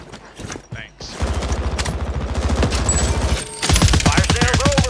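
Rapid automatic gunfire in a Modern Warfare 3 Warzone match, bursts of close shots rattling steadily for several seconds, briefly pausing, then resuming louder with game sounds layered over the firing.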